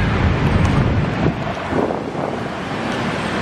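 Wind buffeting a microphone outdoors on a Jakarta street, a steady rumbling roar that swells and dips throughout with no speech.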